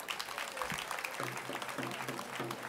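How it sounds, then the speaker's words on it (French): An audience at a tribute day for women claps steadily, faint and spread out, while a voice speaks briefly over the applause. "je vous demande de l'applaudir très fort"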